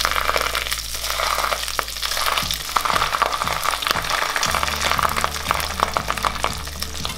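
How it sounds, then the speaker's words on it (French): Fish fillets frying skin-side down in olive oil in a very hot pan, a steady loud sizzle running throughout with scattered pops and crackles, no voices. "avec un peu d'huile d'olive, on va mettre les filets de poisson"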